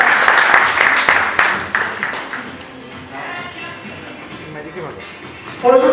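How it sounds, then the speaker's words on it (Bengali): An audience at a magic show applauds loudly with sharp, rapid claps that gradually thin out and fade, followed by quieter room noise. "একটা জোরদার হাততালি"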